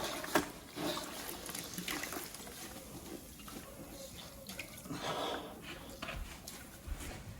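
Water sloshing and trickling as a tiling sponge is rinsed in a bucket, a soft continuous splashing close by with small drips and swishes throughout.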